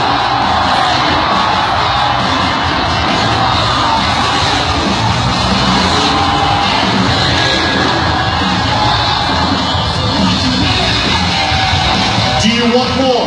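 A large arena crowd at a freestyle motocross show yells, whoops and cheers continuously, loud and dense with no break, full of overlapping shouts.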